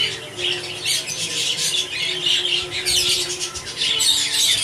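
A male Fellow Hogoromo canary, a first-breed bird, calls with repeated bright squawking chirps in close, steady bursts that recur throughout, over a faint low background hum.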